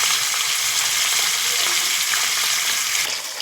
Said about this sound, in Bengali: যে মাছগুলো ভেজে নেব এখন হলদি লবণ দিয়ে মাখিয়ে নিয়েছি